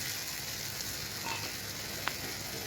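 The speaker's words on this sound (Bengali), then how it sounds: "দিয়ে এবার নাড়াচাড়া করে ভালো করে মশলাটাকে কষাবো পনির আর আলুর সাথে" Spices fry with paneer and potato in a pan, a steady, fairly faint sizzle with a sharp clink from stirring near the end.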